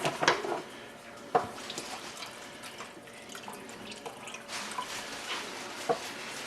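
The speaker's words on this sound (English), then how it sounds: "And pour it in." Cornstarch slurry poured into broth in a pan for savory gravy, a soft liquid trickle and splash with a few sharp clinks of the container, fairly quiet and close.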